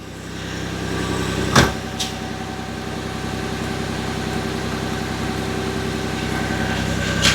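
A 2007 Nissan Frontier pickup with a crank-no-start fault now idles steadily up close, a constant low engine hum with a faint metallic click early on and no talk.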